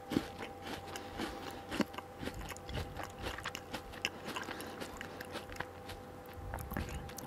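Crunchy biting and chewing of a KitKat Gold caramel chocolate wafer bar, with soft irregular crunches and mouth sounds close up throughout, no talking.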